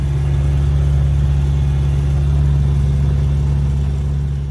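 An old tractor engine fitted in a boat at a summer-house dock runs with a steady, close, low idling drone. The rumble is unbroken and nobody speaks.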